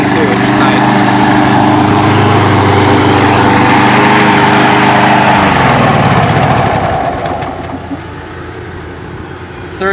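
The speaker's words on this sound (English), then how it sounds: "Has plenty of power for both blades. And I'm really happy to say this mower is ready to ship." A hybrid robotic lawn mower runs two cutting blades with a loud, steady engine drone that dips in pitch and level near the end, as if under load.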